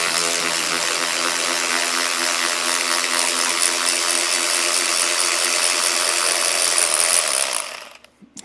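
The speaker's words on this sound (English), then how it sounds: "this is where having an electric ratchet really comes in handy" An electric ratchet spins out a bolt while parts come out of a 1981 to 1995 Mercedes transmission, giving a loud, continuous buzzing ratchet whir that runs steadily for about seven seconds before cutting off abruptly.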